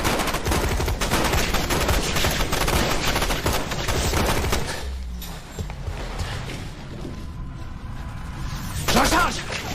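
Dense, continuous gunfire in an action film shootout, layered shots crackling over one another with shouted voices mixed in, easing off midway before another burst near the end.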